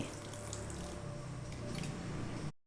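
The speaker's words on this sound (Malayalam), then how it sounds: "നമ്മൾ കുറച്ച് വെള്ളം ഒഴിക്കുക." Water runs steadily for a couple of seconds into a grinder jar, a close, continuous pour that cuts off abruptly.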